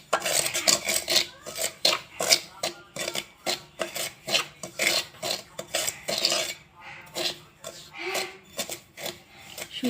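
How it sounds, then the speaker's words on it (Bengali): Semolina is dry-roasted in a heated pan, with a spatula scraping and rasping against the metal in quick, irregular strokes that come close and loud, pausing briefly partway through. "সুজিগুলো এখন আমি ভেজে নেব"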